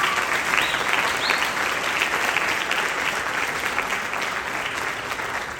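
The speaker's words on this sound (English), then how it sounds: "we should give applause to Dr. Dalia Guerra" Sustained audience applause at a talk on women of ranchera music, a dense wash of clapping hands that holds steady for several seconds and tapers only slightly toward the end.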